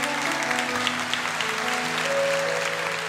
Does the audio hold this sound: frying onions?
no